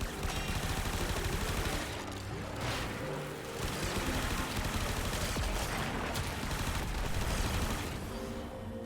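Sustained gunfire in the Warframe video game, with continuous dense bursts of shots and impacts, loud and unbroken throughout, layered over game sound effects.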